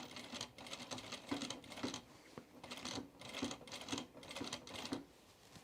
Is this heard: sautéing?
no